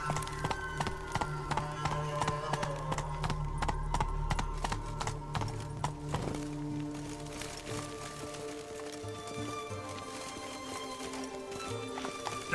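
Roach the horse gallops in The Witcher 3 with rapid, rhythmic hoofbeats, close and steady, easing into slower clip-clops toward the end beneath a faint game soundtrack.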